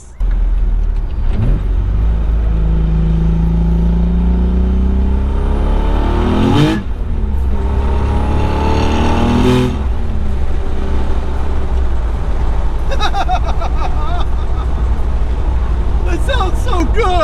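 A built twin-turbo Nissan 300ZX with open wastegates revs hard, its loud engine climbing and surging through several pulls with whooshing bursts, while excited voices shout over it.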